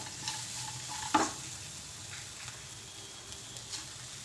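A spoon stirs masala with green chillies and roasted peanuts in a pan, making faint, soft scraping with one sharp clink against the metal. The kitchen is otherwise quiet.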